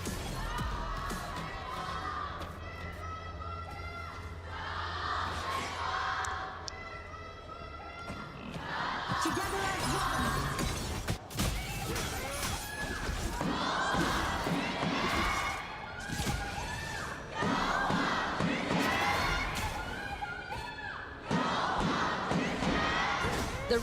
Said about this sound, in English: Cheer it up for our favorite team.